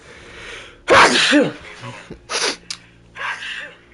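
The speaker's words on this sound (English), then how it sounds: "I'm about to sneeze." A single loud, close sneeze during a live stream, a sharp burst followed by a few short breathy gasps and snorts.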